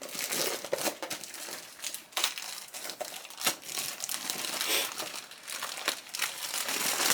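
Packaged sublimation printer paper for an Epson SureColor F170 is handled up close, giving loud continuous crinkling and rustling of the wrapping with sharper crackles throughout.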